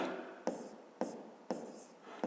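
Numbers are written by hand, heard up close as quiet scratchy strokes: four or five short scribbles about half a second apart, each starting with a small tap. The room is otherwise quiet.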